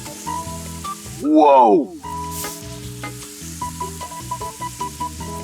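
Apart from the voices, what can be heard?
fizzing toy volcano chemical reaction after adding reagent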